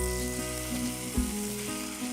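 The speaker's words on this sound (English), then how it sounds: "There we are, a little oil in the pan, tip those in." Courgette ribbons tipped into hot oil in a pan give a short, close sizzle with a soft thud as they land, over a steady low hum from the kitchen.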